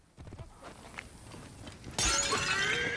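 A clay pot shatters suddenly in the video game Assassin's Creed Origins after a stretch of quiet shuffling, the crash bursting loud and then trailing into a bright, sustained crumbling of shards.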